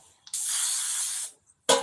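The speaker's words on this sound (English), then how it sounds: "I'm about to spray the baking pan that I'm cooking it in." Cooking spray hissing onto a baking pan in a small galley kitchen, one steady burst of about a second, then a short second spurt after a pause.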